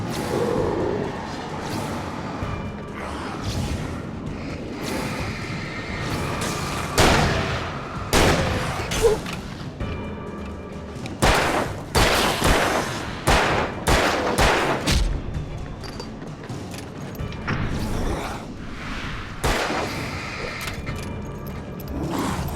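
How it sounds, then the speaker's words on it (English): Shotgun blasts and other weapon fire in the Alan Wake video game, loud irregular bursts of sharp cracks clustered in the middle, over a steady background of low rumbling and mechanical game ambience. "I'm gonna take out the big guy with a shotgun"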